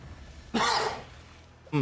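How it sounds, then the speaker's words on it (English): A single short cough, close and fairly loud, followed after a pause by the start of another cough. "Sorry, not the cough."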